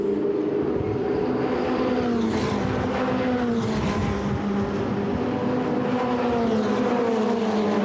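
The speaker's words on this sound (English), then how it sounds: "So as they cross the timing line and go downhill into turn number 1, is Chris Froggatt going to dive to the insi" Ferrari Challenge race cars in the Trofeo Pirelli race at Le Castellet, 2017, roar steadily past on the circuit, their engine notes layered, rising and falling in pitch as the pack drives by close and loud.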